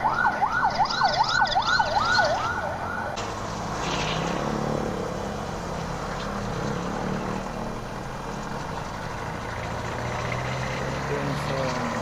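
An ambulance siren wails, rising and falling rapidly for a couple of seconds, then cuts off, leaving steady traffic and street noise.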